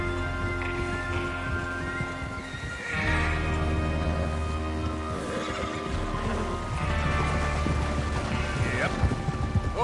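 Horses whinny and hooves sound in the Red Dead Redemption 2 video game, a western outlaw gang mounting up for a train robbery, layered over a dense game soundtrack with swelling mid-range tones throughout.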